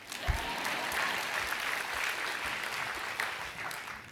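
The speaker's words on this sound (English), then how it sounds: "You can clap." A live audience claps steadily and fairly loudly at a talk about inclusive environments and grocery access, a dense wash of hands sustained through the whole stretch with no voices over it.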